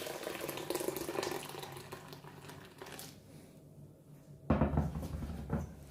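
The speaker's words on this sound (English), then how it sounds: "Hot water over this." Hot water pours over coconut for a boiled shrimp and coconut recipe, a soft splashing trickle near the microphone, pausing briefly before a louder, fuller gush toward the end.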